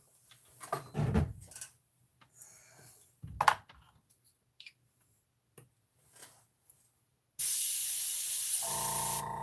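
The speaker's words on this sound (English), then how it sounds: "first time using the new air compressor" A new air compressor for airbrush painting a 1:48 Italeri V-22 Osprey model kicks on near the end as a loud steady hiss, after scattered quiet handling clicks and knocks.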